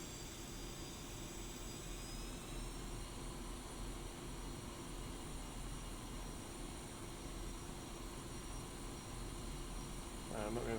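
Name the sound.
jet aircraft taxiing in DCS flight simulator video game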